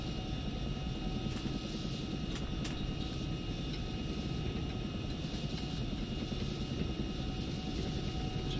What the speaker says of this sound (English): Definitely pushing the Chinook.